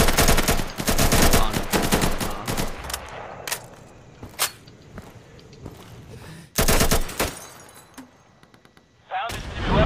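Gunfire in the tactical shooter game Insurgency, dense bursts of automatic fire and single loud shots in clusters, with quieter gaps between volleys and players talking over the shooting.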